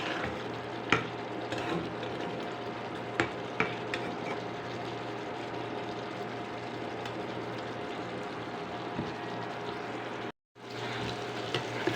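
Chicken gizzard and liver cook down in a pan as the water dries off, a faint, steady low sizzle and bubbling with occasional stirring clicks, broken by a short dropout near the end.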